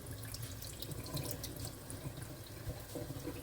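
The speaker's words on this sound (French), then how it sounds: "Je rince bien pour la deuxième fois et puis ça sera tout." Tap water runs steadily into a pot while rice is rinsed, a faint, continuous splashing and trickling with light drips and no talk.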